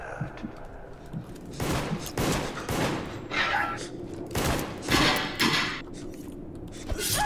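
Bursts of gunfire from the multiplayer game Deceit, several loud volleys in quick succession with gaps between, under some talk and faint thuds.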